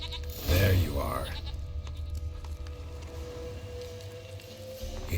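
A goat in The Witcher 3: Wild Hunt gives one short, wavering bleat near the start, followed by a steady low game ambience hum.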